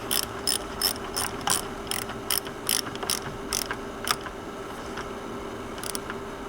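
A hand ratchet tightens down a fastener while upgrading car grounding cables, giving a quick run of sharp, regular clicks in short bursts, then a pause and a final click, close and fairly loud over a low steady hum.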